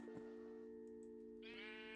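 A sheep bleats in Minecraft, a single wavering bleat rising and holding briefly over a steady, faint in-game background hum.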